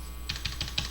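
Computer keyboard keys pressed as Shift and Home/End shortcuts, five quick crisp clicks in an uneven rhythm after a brief pause, close and fairly quiet over a faint hum.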